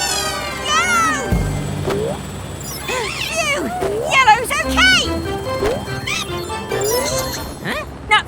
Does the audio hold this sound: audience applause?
no